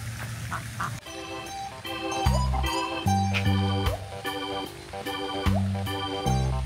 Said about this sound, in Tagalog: Ang cute ng mga duck